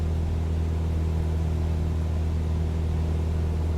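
A Cessna 172 piston engine running with the throttle increased is heard in flight as a steady, loud, droning rumble with a constant low hum, unbroken and with no talking over it.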